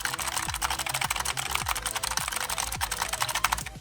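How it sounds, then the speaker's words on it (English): Bursts of sharp, clicky keys tapped in quick succession on an EVGA Z20 optical mechanical gaming keyboard, close up, with occasional heavier thocks; nobody speaks. "This is what the keyboard sounds when you are gaming or streaming"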